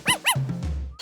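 A puppy gives two quick high-pitched yips close by, followed by a short low whine or growl, all within about a second.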